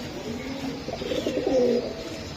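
A pigeon gives a close, clear cooing call, one low rolling phrase that swells briefly over quiet background noise.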